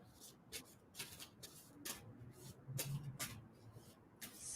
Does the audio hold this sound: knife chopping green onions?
no